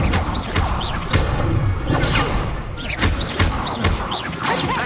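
Incendio fire spell cast in the video game Hogwarts Legacy: loud, close whooshing bursts with crashing thuds, repeated several times in quick succession.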